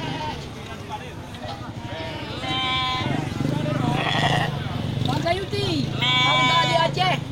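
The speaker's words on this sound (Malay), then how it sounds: "ini juga terlihat 1 ekor domba jantan subur. Ya, mantap ya, domba besar." Sheep bleating among goats and sheep, including a large fertile ram, with several wavering bleats rising loudly near the end over someone talking throughout.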